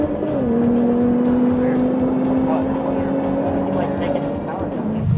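A street car launches and runs up through its gears on a drag strip, a loud continuous engine drone holding steady with a brief pitch drop near the start, and crowd and voices murmuring underneath.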